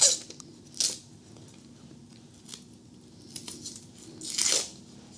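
A knife slicing a green pepper in half in a kitchen gives a few sharp, crisp cutting crunches with short pauses between them, close by and fairly quiet, with no talk.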